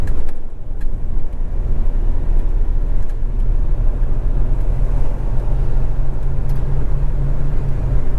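A car heading up a freeway entrance ramp, with a loud, continuous engine and road rumble that holds steady throughout and no voices.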